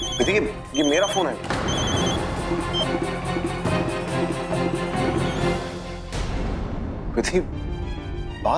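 A phone rings with a repeated electronic tone while people talk over it, the ring cutting off partway through.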